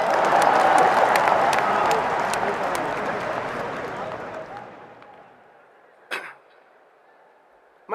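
An audience bursts into loud, dense clapping that holds for a few seconds, then thins out and dies away, followed by a single sharp knock.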